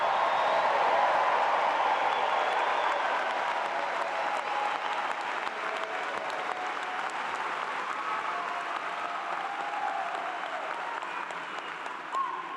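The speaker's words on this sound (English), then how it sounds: "How about another loud round of applause for all of our newest graduates?" An audience at a Clemson University summer graduation ceremony applauds the newest graduates: loud, dense, sustained clapping that holds steady and tapers slightly toward the end.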